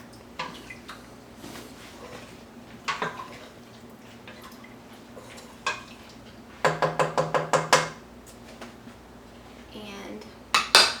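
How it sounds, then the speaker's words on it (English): A spoon knocks and scrapes around a pot of pork and bean soup with kale, giving scattered clinks and then a quick run of about half a dozen rhythmic taps, close by over a quiet kitchen background. "Alright, give it a nice stir."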